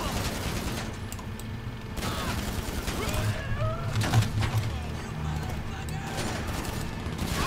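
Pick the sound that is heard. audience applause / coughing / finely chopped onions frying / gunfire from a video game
gunfire from a video game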